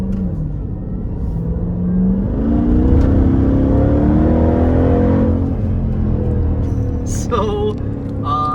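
Jeep Trackhawk with a 6.2 liter supercharged V8 taken from the Hellcat, a steady loud engine rumble swelling as it revs, close and continuous, with a brief higher whine near the end.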